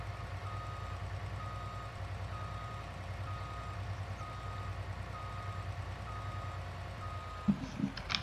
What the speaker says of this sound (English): I'll just park this particular truck